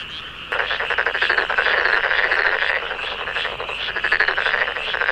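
Male frogs croak in a rice paddy, a loud, dense chorus of rapid pulsing calls that bursts in after a brief pause and carries on steadily to the end.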